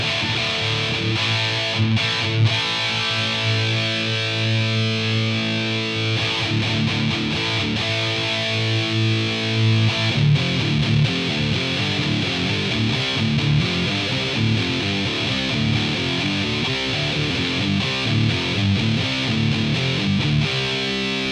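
A heavily distorted electric guitar through a Lichlaerm Audio Prometheus pedal plays chunky riffs and sustained chords, loud, saturated and compressed throughout with no voices.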